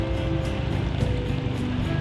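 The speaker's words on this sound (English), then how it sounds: "Dinghy riding." Dinghy riding across river water, a steady close rumble of outboard motor and wind with water rushing past the hull and slight rhythmic slapping, no voices.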